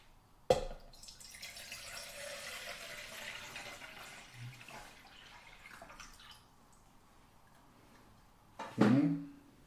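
One liter of water is poured into the pot of a Swedish military Trangia cook set: a soft clunk, then several seconds of steady, quiet pouring that tapers off and ends with a metallic clatter.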